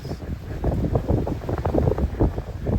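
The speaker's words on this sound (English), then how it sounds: "Yes, it is windy." Strong wind buffets the microphone in low, rumbling gusts in below-freezing weather, steady and close throughout with no voices.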